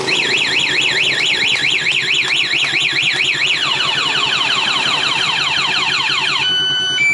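A loud Kawasaki KSR motorcycle anti-theft alarm warbles rapidly up and down, then switches to a faster descending siren pattern, continuous and close, with no voices.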